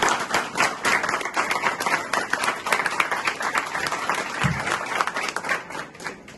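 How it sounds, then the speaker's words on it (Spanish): Audience applause fills a book presentation at a photography festival in Santiago, with dense, steady clapping from a sizable crowd throughout, close and continuous. "Un fuerte aplauso para los tres"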